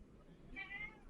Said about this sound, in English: That's my cat, Lupita.